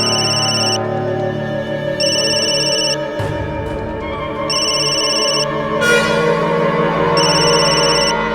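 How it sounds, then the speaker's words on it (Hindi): A telephone rings in a tense domestic drama scene, the electronic ringtone sounding in repeated bursts of about a second with short gaps, loud and close and unaccompanied by talk. "जरूर जरूर दीदी का फोन होगा।"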